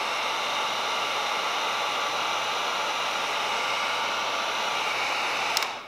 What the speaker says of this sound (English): I'm gonna heat up this middle channel and push it down.